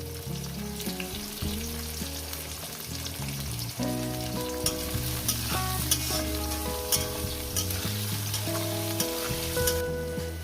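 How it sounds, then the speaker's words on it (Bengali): Chopped onion and chicken fry in a pan while being stirred, a close, continuous sizzle punctuated by scraping and clinking of the spatula, with no talk. "দিয়ে পেঁয়াজটাকে সুন্দর করে আমি ভেজে নেবো"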